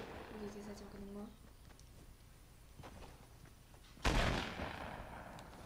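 Gunfire in a Fortnite match: a single loud, sharp burst of shots rings out past the midpoint, while a player talks quietly beforehand and game sounds murmur underneath.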